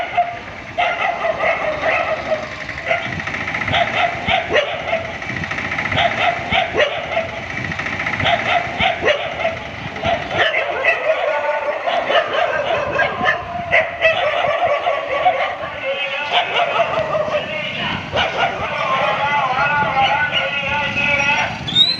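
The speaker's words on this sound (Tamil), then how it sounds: "தெருவில் சுற்றி வந்த மற்ற நாய்கள் பீதியடைந்து ஓடியதுடன் குரைத்து கொண்டு சுற்றி வந்தன" Street dogs in a residential street bark and yip repeatedly in short, irregular bursts, with an idling engine and voices in the background.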